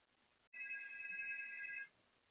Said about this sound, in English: the phone you were using sounded like you were using a landline based on the way that the phone rang